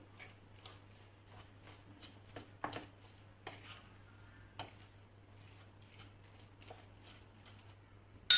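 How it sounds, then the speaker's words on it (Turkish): Drained boiled potatoes mashed together with butter and grated kaşar cheese, giving soft repeated squishing and tapping knocks against a pot at an irregular pace, fairly quiet and close with no talking. "Hepsini beraber ezerek karıştıralım."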